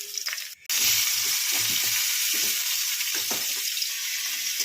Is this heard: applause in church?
no